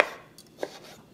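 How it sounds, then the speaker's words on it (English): A knife chopping xoconostle on a cutting board, giving a few quick, crisp, fairly quiet cuts in a short, uneven run. "I'm really enjoying chopping it up right now."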